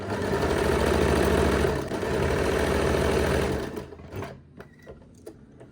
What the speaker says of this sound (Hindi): यहाँ पर सिलाई मशीन से आपने एक मोटी सिलाई लगा लेनी है।